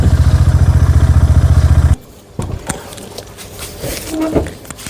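Honda CB350RS motorcycle engine on a cold start, a loud rapid thumping idle pulse for about two seconds that then cuts off, followed by clatter, handling noises and faint background sounds.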